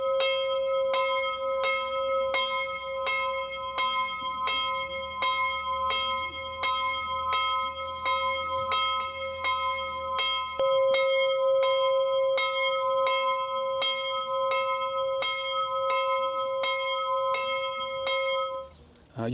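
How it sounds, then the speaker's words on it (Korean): A church bell at Tabgha in Galilee rings in a steady, even series of roughly thirty clear, resonant strikes. It sounds close and loud, with a soft low hum beneath it and no talking. "때마침 종이 울립니다."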